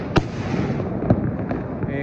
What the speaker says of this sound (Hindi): काफी ज्यादा पटाखे चल रहे हैं।